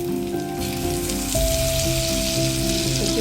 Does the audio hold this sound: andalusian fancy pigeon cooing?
no